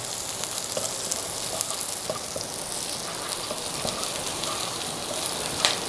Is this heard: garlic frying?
yes